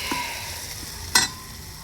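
Quiet sizzling of a spice tempering in hot oil for saag, with two brief crackling bursts against a soft, steady hiss.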